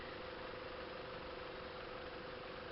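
A heavy car creeps slowly up a steep dirt hill at Morro do Amendoim in São Thomé das Letras, its engine a low, steady distant hum with a faint constant tone and no voices.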